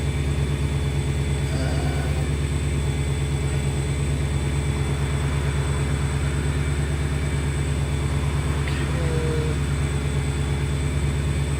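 An engine run by a Holley EFI HP Dominator idles with a steady, low, even rumble that stays close and unchanging throughout.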